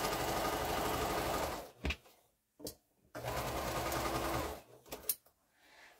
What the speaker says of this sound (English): So we'll sew this last piece